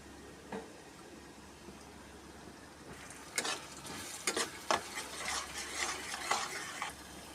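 Onion, ginger, garlic and tomato paste for matar paneer hits a hot pan. The soft sizzle and frying hiss are joined by stirring scrapes and clinks of a utensil that grow busier after the first few seconds.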